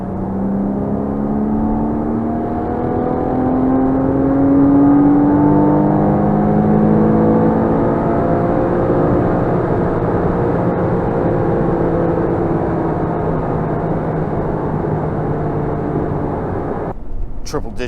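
A base Porsche Cayman's engine pulls hard at high speed, a steady loud drone with rising whine and broad road roar throughout, and a sharp drop in the last second.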